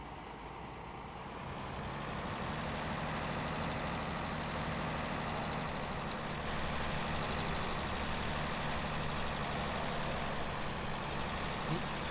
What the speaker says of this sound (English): just looks at that engine purr right there